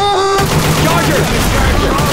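Rapid, dense gunfire in Left 4 Dead 2 fills the whole stretch with loud, continuous shots and bursts, with voices calling out over it.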